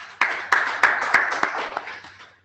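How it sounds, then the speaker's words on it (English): Scattered audience clapping at a seminar, a handful of sharp individual claps over a dense wash of applause that fades out toward the end. "Can we clap for her?"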